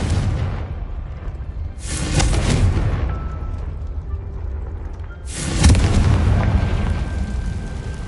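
Two booming fire-spell blasts from Confringo in the video game Hogwarts Legacy, each a loud broadband burst that rumbles and fades, separated by a few seconds of low ambient rumble.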